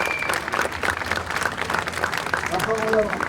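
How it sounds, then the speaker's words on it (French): Applause from a crowd at a Paris rally for striking Vertbaudet workers, a dense, steady clatter of clapping with a voice speaking over it. "on peut les applaudir"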